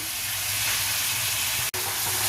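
Masala of chilli powder and spices frying in a pan for fried paneer masala, with water just added, giving a steady loud broadband sizzle and hiss that breaks off for an instant near the end before resuming.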